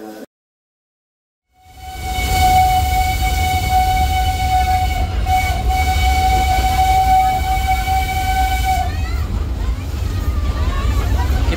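The Jaladara tourist steam train pulls away in the middle of Solo, with a loud, sustained whistle over heavy, continuous rolling rumble after a brief silent start.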